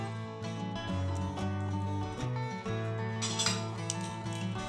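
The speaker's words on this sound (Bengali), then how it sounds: "কড়া গরম হয়ে গেছে কড়ায় আমি সূর্যমুখী তেল দিলাম" Sunflower oil goes into a hot wok, with bright metallic clinks and taps of the pan and utensils ringing out in a quiet kitchen, sounding close and fairly soft.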